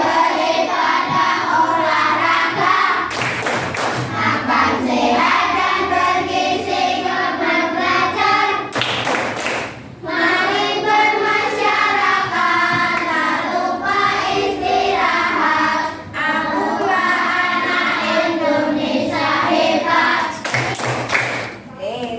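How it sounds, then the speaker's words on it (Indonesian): Classroom of children at an Indonesian primary school doing the "tepuk anak hebat" chant-and-clap routine, with sharp bursts of group clapping breaking up loud rhythmic chanting throughout, close and lively. "tepuk anak hebat"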